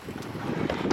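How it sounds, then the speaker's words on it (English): Strong wind gusts buffet the microphone outdoors beside a pool, a loud rumbling roar that swells and surges over one second. "these gusts of wind come and they almost take half the water out of the pool"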